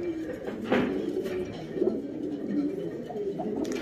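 Rock pigeon cooing in a Valencian pigeon loft, soft repeated low coos close by among other bird sounds and background voices.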